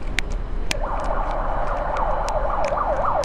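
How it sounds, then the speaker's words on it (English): A wailing emergency siren rises and falls repeatedly over steady city traffic noise at a street corner, moderately distant, with a few sharp clicks scattered through. "I can hear some sirens"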